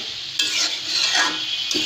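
Flat beans and bottle gourd sizzle steadily in a hot pan with no added water while a spatula stirs and scrapes through them, a continuous loud hiss close by with no talking.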